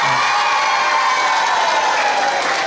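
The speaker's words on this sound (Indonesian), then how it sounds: "tepuk tangan." An audience at a children's preaching competition claps and cheers together, a loud, steady wash of crowd noise with a few higher shouts and whoops rising through it.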